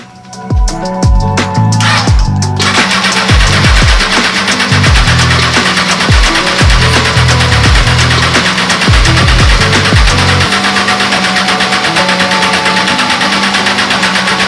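Honda F4i stunt motorcycle engine catching after a few rapid cranking ticks, then settling into a loud, steady, buzzing idle close to the microphone for the rest of the time.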